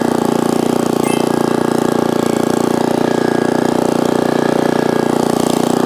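A small 6.5-horsepower four-stroke single-cylinder walk-behind cultivator engine runs steadily and loudly throughout, a constant chugging drone with rapid firing pulses and no talk.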